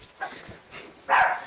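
Dogs at home give a couple of short, high yips and barks close by, the last one loudest, with little else around them.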